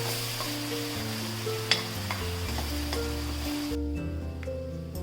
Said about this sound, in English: Keep it at the low flame and give it a nice stir